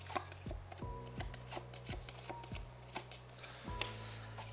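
A deck of cards being shuffled during a tabletop card game, a series of crisp riffling bursts, about five distinct shuffles close to the listener with no talking.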